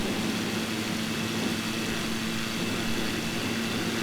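ICON A5 amphibious airplane with a Rotax engine at takeoff power, giving a steady, loud, continuous drone with an even propeller hum and no pauses.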